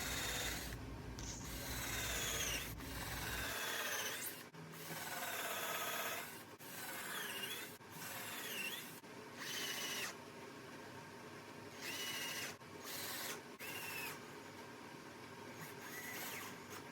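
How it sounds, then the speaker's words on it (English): Drill driving screws through a countersink bit into a wooden router table fence, heard in a run of short, close bursts of whirring and grinding separated by brief pauses, with scraping and handling noises in between. "Now I can fasten the fence to the base using a countersink drill bit"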